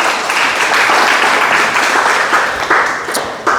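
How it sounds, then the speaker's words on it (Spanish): A church congregation claps together, loud and sustained, a dense wash of many hands with a few sharper individual claps standing out near the end. "¿Por qué no le da un aplauso al Señor entonces esta preciosa mañana?"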